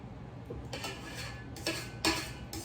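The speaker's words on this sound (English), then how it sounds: "we're going to scrape down the sides of the bowl yet again" Spatula scraping around the sides of a mixing bowl of oatmeal cookie dough after stopping the mixer, with soft scuffs and a few louder clinks against the bowl, close and alone.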